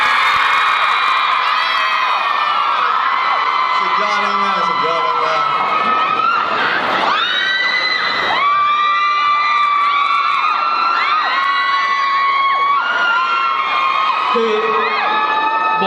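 A large crowd screams and cheers loudly and continuously at a celebrity appearance at a Skechers store, shrill high-pitched shrieks overlapping with whoops, nearby and filling the whole stretch.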